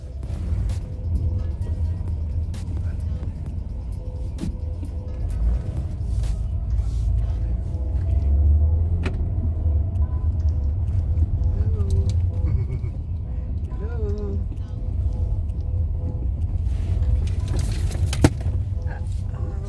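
A 2020 Ford Ecosport 1.0 Ecoboost driving on a tight track, a steady low engine and road rumble from inside the cabin with occasional knocks and rattles, a voice talking briefly over it.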